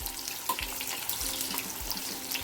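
Chopped onions frying in hot oil with popped mustard seeds in a pan, a steady close hiss and sizzle that fills the clip with faint crackles on top.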